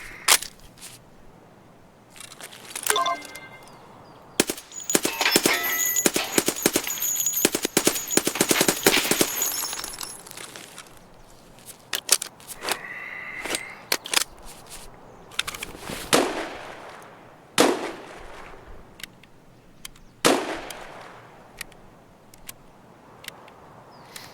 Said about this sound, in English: It's not me they're shooting at. Somebody's exchanging rounds.